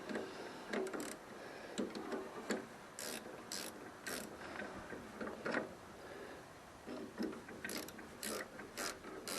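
A ratchet wrench removes bolts from the drive clutch of a pre-1980 International Cub Cadet, giving bursts of quick metallic clicking at close range, with some pauses and a few louder knocks between strokes.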